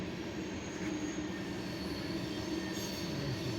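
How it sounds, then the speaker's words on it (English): A Norfolk Southern unit train of crude oil tank cars rolls past at moderate distance, a steady rumble and grinding of wheels with no talking. "this is the unit tank train"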